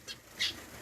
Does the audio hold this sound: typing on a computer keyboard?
no